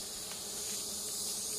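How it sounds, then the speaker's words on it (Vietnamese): A swarm of wild forest bees buzzes steadily in a dense, close, high-pitched drone during an attack, with no voices. "Tổ ong này khá là dữ đấy."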